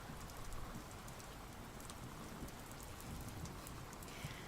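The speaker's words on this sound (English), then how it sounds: "Let me know if the rain sounds need to be louder or quieter." Steady rain effect playing behind a quiet ASMR book reading, an even wash of falling drops on a surface with no thunder claps, soft and continuous throughout with no talking.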